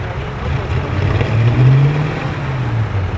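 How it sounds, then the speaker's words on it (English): A 1953 Ford NAA tractor's V8 engine rumbles steadily, then swells in a smooth rev before easing back, loud and close with a deep droning tone, at a tractor parade. "1953 Ford NAA, powered by a V8 engine. Let's hear that sucker roar."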